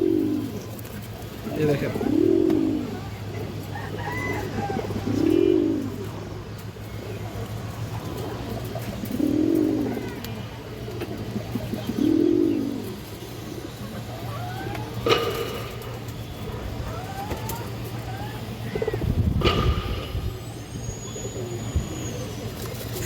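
Khaki pigeons cooing in a loft, a series of soft, low, rhythmic coos repeating every few seconds, close by, with someone speaking briefly and faint traffic in the background.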